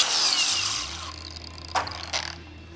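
A beeswax bar is pressed against a spinning flap wheel grinding disc to load it with wax, a steady high whirring grind that eases off, then two short scraping bursts near the end.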